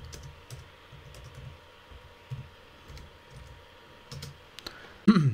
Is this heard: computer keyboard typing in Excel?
yes